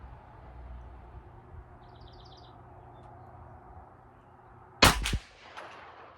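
A Smith & Wesson FPC 9mm folding pistol carbine fires a single sharp, loud shot at an outdoor range, with a brief echo after it and faint birdsong and quiet ambience beforehand.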